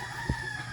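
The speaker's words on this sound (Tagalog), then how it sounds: "Mga manok." Chickens in a backyard coop give a single short, faint cluck over low, steady background noise.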